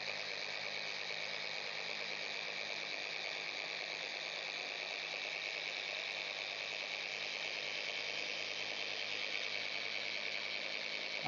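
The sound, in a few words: dual action polisher machine polishing car panel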